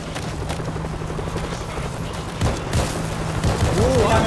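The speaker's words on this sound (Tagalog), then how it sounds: "Helicopter inbound." A helicopter arrives in the video game World War Z amid a loud, dense battle, its rotor thump running steadily under continuous gunfire, bursts and explosions throughout.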